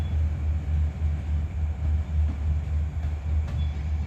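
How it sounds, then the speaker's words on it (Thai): A low, rolling rumble with a regular pulsing beat as a long passenger train's carriages pass slowly through a station at night, steady throughout without voices. "เพื่อมารับชมขบวนรถไฟ ยามดึก"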